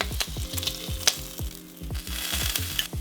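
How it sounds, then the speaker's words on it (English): Bacon sizzles steadily in a hot pan while strips are flipped, with a constant crackling fry and occasional sharper pops and scrapes, close and fairly loud, with no talking. "I'm just flipping over the bacon."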